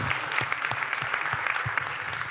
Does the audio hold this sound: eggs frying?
no